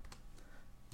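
Typing on a computer keyboard, a few quick, faint key clicks at an uneven pace over a quiet background.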